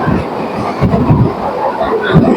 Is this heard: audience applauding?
no